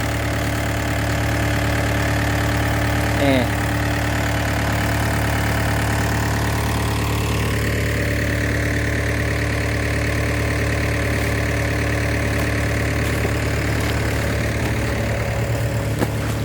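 Engine powering a sand tank pump at a work site, idling in a loud, steady drone with an even low throb that carries on without a pause; one brief voice is heard.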